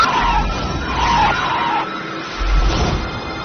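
Several cars skid with screeching tires in a TV drama scene as they close in from both sides, a loud, sustained squeal with engine rumble that dips briefly and then surges again.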